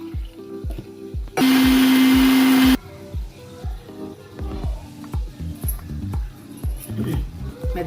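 A mixer grinder whirs loudly for about a second and a half, blending stuffed brinjal curry into a smooth gravy, then cuts off. Clattering kitchen sounds follow.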